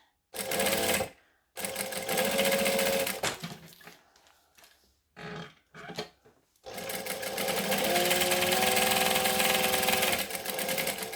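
A sewing machine stitches vinyl bag handles, its close, rapid mechanical whirr starting and stopping in several bursts with brief gaps and handling noises between, then running steadily at the end.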